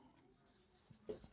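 Pen writing a maths solution about a triangle on paper, faint scratchy strokes lasting about a second, with soft speech nearby.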